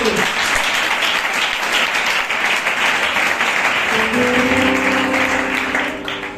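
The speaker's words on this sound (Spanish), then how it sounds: "Fuerte el aplauso para el Señor." Loud, sustained applause from a church congregation fills the hall, steady and dense throughout, with a voice beginning to speak over it near the end.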